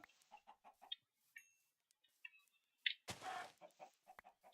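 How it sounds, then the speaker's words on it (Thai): Chickens clucking in the Minecraft video game, several short, soft clucks spaced irregularly, with a few other brief game sound effects and a burst of noise partway through. "ก่อนกลับบ้านเราก็ล่า เจ้าพวกไก่นี้ไปก่อน"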